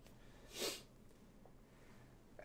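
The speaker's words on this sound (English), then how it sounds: "Hang on, I gotta sneeze." A single sharp, fairly quiet sneeze bursts out once in an otherwise calm room, followed by faint breathing.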